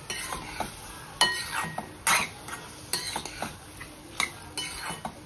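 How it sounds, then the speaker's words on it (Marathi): A spoon scrapes and clinks steadily around a pan while bottle gourd halwa with sugar, mawa and ghee fries, with a faint sizzle underneath and close, irregular knocks. "हे सर्व आपण मिक्स करून घेऊया। तूप सुटेपर्यंत छान आपल्याला परतून घ्यायचं आहे।"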